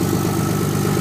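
A 2007 Ram 3500 engine idles steadily after a hard cold start on a sub-freezing day, a constant low rumble that is close and fairly loud, with no talk over it.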